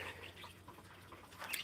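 Small birds chirp and tweet around a feeder and waterer at a pheasantry, a dove among them, with short scattered calls over a low steady hum, fairly quiet and with no talking.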